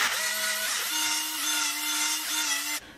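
A machinist's drill bit grinds away the mushroomed head of a rivet on a Matchbox Ferrari Berlinetta die-cast car, a steady close whine with shifting pitch that cuts off abruptly near the end.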